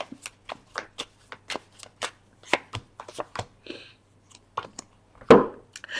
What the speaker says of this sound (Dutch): Van de kaarten schudden om te kijken wat week 10 voor de vissen gaat brengen.